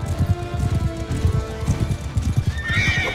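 A horse gallops and neighs in the video game Mount & Blade II Bannerlord. Rapid, rhythmic hoofbeats pound close and loud throughout, and a high whinny rises over them near the end.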